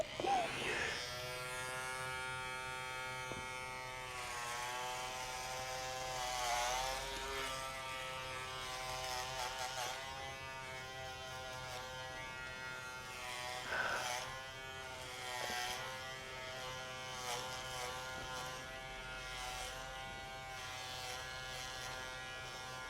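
Electric hair clippers buzz steadily through a buzzcut, close and continuous, their pitch dipping and shifting as the blades move through hair, with faint voices in the background.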